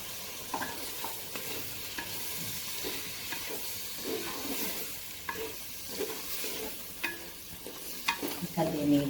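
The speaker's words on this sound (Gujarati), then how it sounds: "હવે આપણે આમાં ટીંડલી કાપીને રાખી છે એને આપણે અંદર એડ કરી દઈશું." Chopped ivy gourd (tindli) goes into a pan for pulao and is stirred, soft steady sizzling under repeated scraping strokes of a spoon, faint and close.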